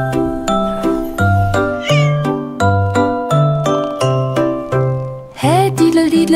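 Loud, insistent cat meows repeat one after another, some drawn out into wailing yowls, over a tinkling musical backdrop with a louder squeal near the end.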